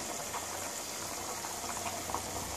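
Water boiling steadily in a pot for chicken tehari, a continuous close bubbling hiss with small pops throughout, no voices.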